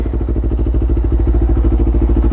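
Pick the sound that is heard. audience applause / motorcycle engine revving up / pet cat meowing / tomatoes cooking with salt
motorcycle engine revving up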